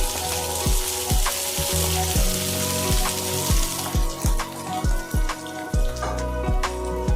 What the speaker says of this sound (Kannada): ಕಲರ್ ಬರೋವರೆಗೂ ಫ್ರೈ ಮಾಡಬೇಕು ಈರುಳ್ಳಿ ಹಾಕ್ತಾ ಇದ್ದೀನಿ